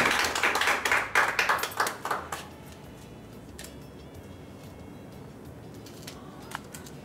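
A wedding congregation bursts into clapping for the Lord, a lively burst of many hands for about two seconds that stops abruptly, leaving a quiet room with a few faint taps.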